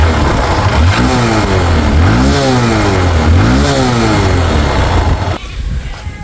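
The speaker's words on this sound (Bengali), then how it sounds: "বাইকটা স্টার্ট করে সাউন্ড কন্ডিশন দেখাবো" A Hero Hunk 150cc double-disc motorcycle engine, a used bike with about 35,000 km, runs loud and close with repeated rising revs over a steady idle, then cuts off sharply near the end.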